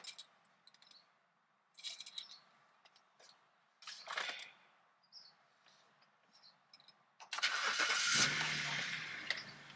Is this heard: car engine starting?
yes